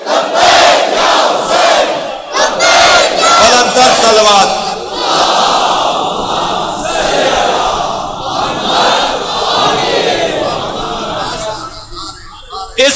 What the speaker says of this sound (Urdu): لبیک یا حسین، بلند تر صلوات۔